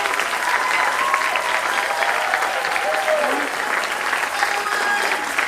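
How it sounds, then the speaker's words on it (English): Audience clapping for children at a school spring concert, a sustained crowd applause filling the room, with faint voices and a brief tonal sound drifting through it. "Big round of applause for our children"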